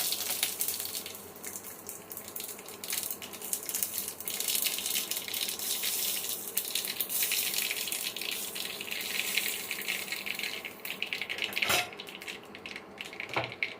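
Radhuni seeds, mustard seeds and bay leaf crackle in hot oil, a steady dense hiss of frying carrying on throughout with brief louder pops, close and fairly loud, with no talking.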